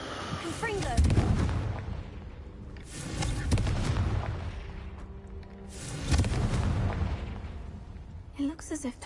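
Confringo explosion spell cast in the game Hogwarts Legacy, a cave setting, giving three heavy booming blasts spaced a few seconds apart, with rumbling low tails and a short crackle at the end.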